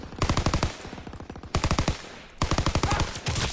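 A PPSh submachine gun fires in the Call of Duty WW2 beta, with three rapid, rattling bursts of automatic fire separated by short pauses, loud and close.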